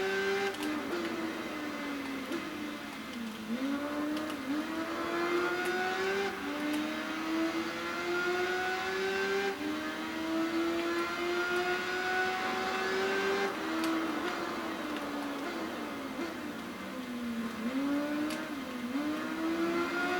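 An Aprilia racing motorcycle in the Tourist Trophy video game whines steadily, its engine pitch repeatedly dipping and climbing through gear changes and corners over about twenty seconds, moderately loud.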